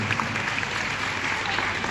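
A crowd at a spiritual gathering in Pratapgarh claps together in a dense, steady burst of applause that fills the whole stretch at an even loudness.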